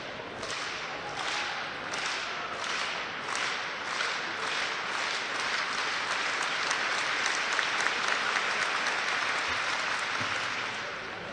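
Indoor athletics crowd at a university championship clapping in a rhythmic slow-handclap to lift a long jumper, sharp claps in a steady beat that speed up and merge into loud continuous applause.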